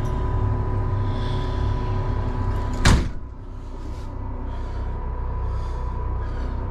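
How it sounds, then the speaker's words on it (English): A single sharp thud as the door of a 2012/2013 Jayco Greyhawk 29KS RV is pulled shut, close by, against a steady low engine-like hum that continues afterward. "let me shut this door so we don't have all that sun coming in here."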